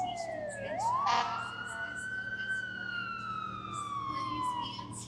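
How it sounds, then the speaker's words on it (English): An emergency vehicle siren wails on Hollywood Boulevard in Los Angeles, a loud rising and falling tone that sweeps up and then slowly down over street traffic noise. "Here comes our siren for tonight."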